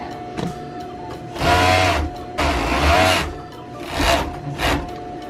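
A sewing machine stitches down the outside seam of a pajama leg in three loud bursts of whirring, with short pauses between runs.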